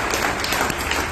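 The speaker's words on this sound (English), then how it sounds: "Let's give them please a huge round of applause." A crowd applauds military veterans, a dense, steady wash of clapping throughout with no pauses.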